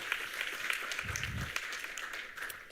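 Applause from the audience at an international colloquium on age-friendly communities: a faint, steady patter of clapping from a seated crowd, heard at a distance for a few seconds.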